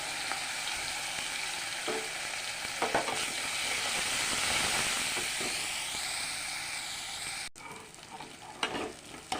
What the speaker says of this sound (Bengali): লাল লাল করে